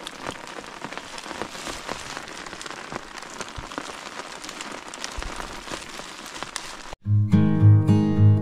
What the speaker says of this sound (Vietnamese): hôm nay thì một ngày mà mưa gió rất là lạnh